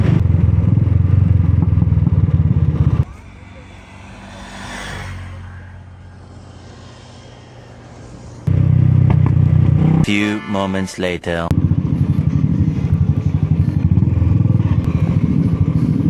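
Motorcycles riding on the open road, including Royal Enfields bound for MotoVerse in Goa: loud wind-buffeted engine roar from the ridden bike, dropping away for a quieter stretch midway before surging back, with brief speech.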